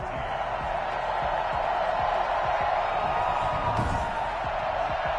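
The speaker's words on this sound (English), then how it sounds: "you can hear the crowd react, right?" Stadium crowd in a Madden NFL video game roaring after a 55-yard field goal, a steady dense wash of cheering and noise held at full loudness throughout.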